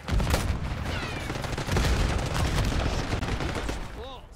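Dense gunfire from Call of Duty Black Ops 6 multiplayer on the Derelict map, with rapid MP5-style bursts rattling almost continuously at close range and game voices mixed in.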